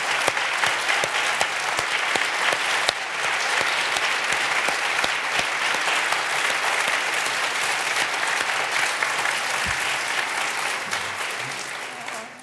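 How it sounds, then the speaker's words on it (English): Loud, sustained applause from a large audience honoring school principals as they stand at an education address, thick continuous clapping that runs for about twelve seconds before tapering slightly at the end. "Let's give them a round of applause."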